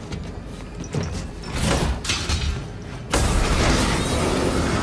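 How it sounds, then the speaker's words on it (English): Heavy sliding door opening in the Call of Duty Infinite Warfare video game, a loud mechanical rumble and whoosh that builds and then jumps to a sustained roaring blast of wind and engine noise. "Door!"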